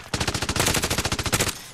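A fast automatic gunfire burst in Modern Warfare Warzone, loud and close, with about twenty rapid evenly spaced shots rattling for over a second before cutting off.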